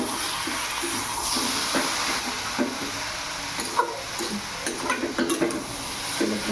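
A spoon stirs sugar into a dish frying in a pan, with a steady close sizzle and hiss running underneath irregular scraping and clinking strokes.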